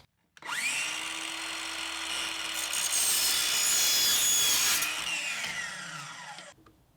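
A power saw cuts a 45-degree miter in a Schluter metal tile edge profile, spinning up with a rising whine, then a bright, harsh screeching bite through the metal for several seconds before winding down.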